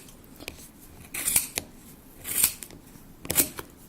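Sharp scissors snip through a length of yarn, three distinct crisp cuts spaced about a second apart, close and clear with a quiet background.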